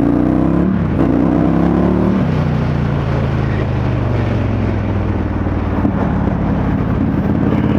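An Indian FTR1200 flat-track-styled sport motorcycle engine accelerates hard and loud, its pitch climbing, dropping at a shift, then pulling steadily higher under constant rushing wind noise.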